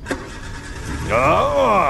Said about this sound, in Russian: Смотри, какой рев двигателя, послушай его.